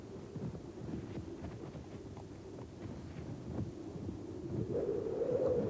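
Wind blows steadily outdoors on Bardsey Island, a low buffeting rumble with gusts that builds louder toward the end, with no voices.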